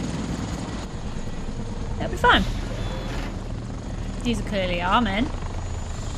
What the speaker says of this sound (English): Cinematic helicopters.